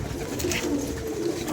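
Domestic pigeons, pets of a pigeon keeper, coo steadily from close by in a low, rolling murmur that runs through the whole moment, with no talking over it.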